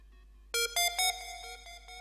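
A bright synth lead plays a short melody of sustained, buzzy notes with sharp attacks, starting after a brief quiet intro and continuing with held tones.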